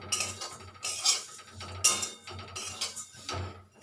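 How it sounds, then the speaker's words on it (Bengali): Dry flattened rice (chire) being fried in a pan over low-to-medium heat, giving soft irregular scraping and rattling bursts as it is stirred, close and fairly quiet with no talking. "আমার চিড়েটা ভাজতে একটু সময় লাগবে"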